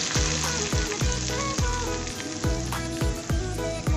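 Loud, steady sizzling of sambal frying in hot oil, with repeated clanks of a spatula stirring the pan at a regular beat.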